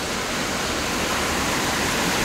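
Sea waves roll in along the Konkan coast, heard from a moving vehicle as a loud, unbroken wash of broadband roar with no voices.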